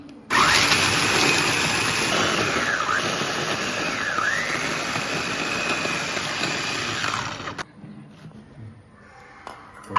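A mixer grinder crushes ingredients with curry leaves for green bean vada, its motor roaring loud and close with shifting whines for about seven seconds before cutting off into quiet room noise.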